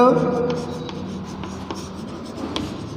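Marker or chalk writing a definition on a classroom board during a Class 10 chemistry lesson, scratchy strokes repeating under a teacher's continuous speech.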